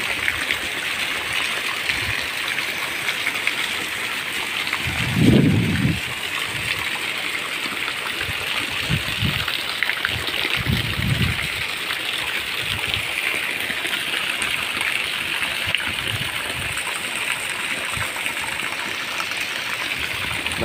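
Rainwater pours steadily off a roof in a dense, rushing splash that holds constant, with a few heavier gushes and thumps breaking through.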